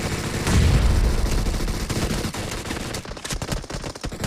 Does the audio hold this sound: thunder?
no